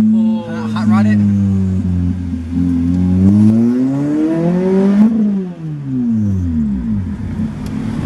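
A car engine is driven hard, revving up and down in long loud sweeps, rising in pitch, dropping, then climbing again. Voices talk over the engine noise.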